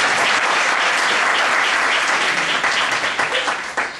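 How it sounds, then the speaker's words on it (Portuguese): Church congregation applauding during a sermon, loud dense clapping from a packed crowd filling the space, sustained and then tapering off toward the end. "Vamos dar um aplauso para Jonatas aqui."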